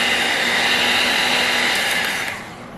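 Cheesecake batter with salt and flour being mixed by an electric mixer, a loud continuous whirring motor drone that holds steady, then drops in level near the end.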